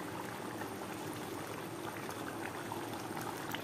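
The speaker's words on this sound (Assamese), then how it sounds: "এয়া চাওক মাংসৰ পৰা উতলি আছে" Duck meat boiling in a pot, a dense, steady bubbling roil with no pauses, heard close up and without any talk.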